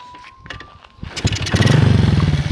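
A Honda Karisma motorcycle engine cranks and fires up after a quiet stretch, then settles into a loud, steady, close-up idle with a rapid pulsing beat.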